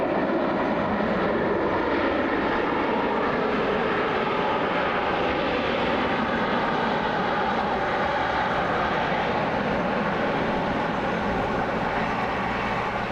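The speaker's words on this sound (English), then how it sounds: "United just landed here." A United airliner lands at Washington Dulles, its engines roaring steadily and loud for the whole stretch, with broadband jet rumble and no voices.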